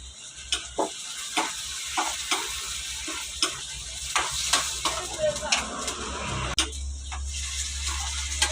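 Pork stir-fried in a hot pan, a steady sizzle broken by regular scraping strokes of a spatula, close and clear, with someone speaking over the cooking.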